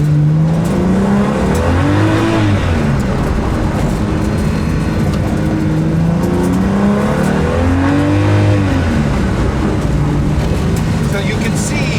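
A car accelerates on a race track during a track day, the engine droning loud and close with rising and falling pitch as speed builds, while people talk over it.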